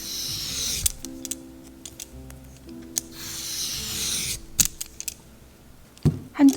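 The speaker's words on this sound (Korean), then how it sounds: "오이를 감자칼로 껍질을 벗기듯 얇게 잘라주세요." Thin cucumber slices shaved with a vegetable peeler, giving soft scraping swipes in a loose rhythm, close and fairly quiet, ending in a couple of sharper knocks.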